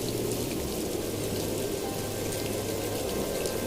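Steady, dense rain pours down throughout a storm, a constant loud hiss of drops with no gaps and no voices.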